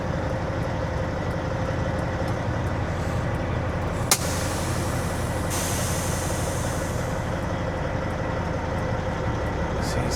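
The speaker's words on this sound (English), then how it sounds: "Stuff like that, like setting my brakes." A Kenworth W-series truck sets its air brakes with a sharp, brief hiss followed by a short burst of air, heard over the steady idle of the engine in a parking area.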